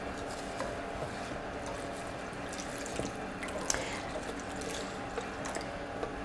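Broth pours into a pot during home dinner cooking, a steady, fairly quiet liquid stream with a few small clinks and splashes throughout.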